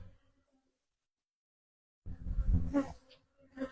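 Honeybees buzzing at an apiary hive during an inspection; after a near-silent start, a close, dense buzzing swarm rises abruptly and stays loud for the last second and a half.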